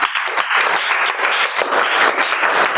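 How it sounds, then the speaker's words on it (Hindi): Children clapping for a classmate in a class 6 maths lesson, a dense, loud burst of applause from many hands that keeps up steadily for a few seconds. "ताली बजाओ भाई बच्चे के लिए।"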